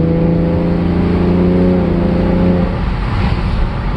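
A car engine revs hard and close, holding a strained tone before dropping back with an airy rushing whoosh of intake noise.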